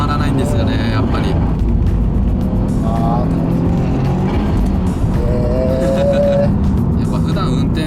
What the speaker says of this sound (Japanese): 吸気音もいいな。